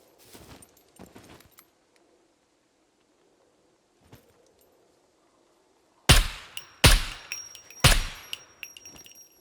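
A gun magazine is reloaded in the survival game SCUM. Faint handling rustles come first, then three loud, close metallic clacks about a second apart, ringing briefly.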